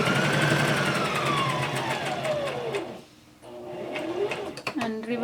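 A sewing machine back-stitches a cloth face mask, its motor whirring steadily, pausing briefly, then resuming with short bursts as someone talks.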